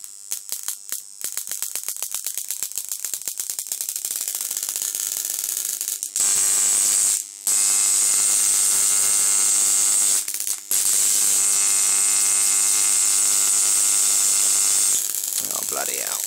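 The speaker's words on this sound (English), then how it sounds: "I got pins bloody arcing out." High-voltage electrical arcing from a 4 MOSFET ZVS driver, about a 3-inch arc: a loud, steady buzzing hum with dense harmonics, interrupted by two brief cutouts, after a stretch of rapid crackling clicks.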